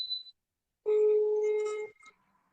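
A telephone ringtone sounds during a Turkish live broadcast: a brief high beep, then a sustained harmonic ring tone of about a second, loud and close with no talk over it.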